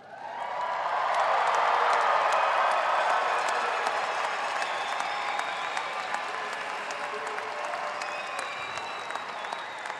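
A commencement audience at the UCCS Fall 2018 ceremony applauds the graduates: dense, sustained clapping from a large crowd that swells early and holds steady and loud throughout, with a few scattered cheers.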